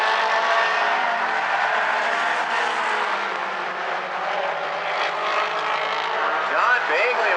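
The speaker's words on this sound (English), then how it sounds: "A gaggle of cars all fighting for position." Mini stock race cars roar together in a tight pack at South Sound Speedway, a loud continuous engine din with overlapping revving and passing cars and an announcer talking over it.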